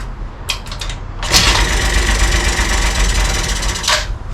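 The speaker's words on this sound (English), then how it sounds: "Now we're going to try and get it to start" A rebuilt motorbike engine is cranked with the key, ticks a few times, then catches and roars loudly under a burst of throttle. It runs hard and close for several seconds before dropping off.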